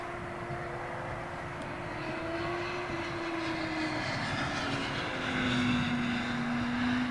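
A jet airliner departing Heathrow runway 27L, its engine roar and rising whine carried steadily at moderate distance, swelling slightly toward the end with no voices.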